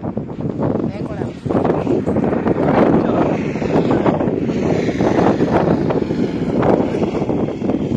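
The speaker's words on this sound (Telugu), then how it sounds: "ఈ ప్లేస్ లో గాలి వస్తుంది, చూస్తా ఉండండి గాలి ఎలా వస్తుందో." Strong wind blows across an open outdoor spot, a loud, steady roar buffeting the microphone for the whole stretch, with voices faintly mixed in.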